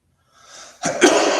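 A single loud sneeze, preceded by a short breathy intake, close up.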